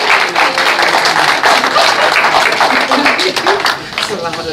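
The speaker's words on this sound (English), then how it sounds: "Let's give her a round of applause as she makes her way forward." Audience at a Kwanzaa community event applauds as a singer comes forward, a loud, dense round of clapping mixed with cheering voices that tapers off near the end.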